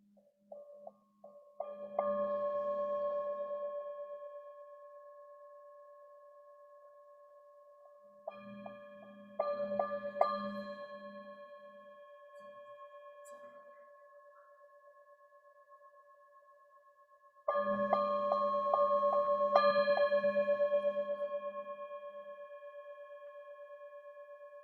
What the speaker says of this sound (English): So this is a Tibetan singing bowl